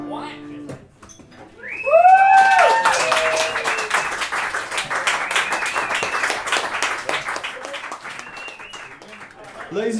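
A pub audience at an open mic night bursts into sustained clapping and cheering after a performance, loud and dense, with shouts and whistles mixed in and a voice speaking over it.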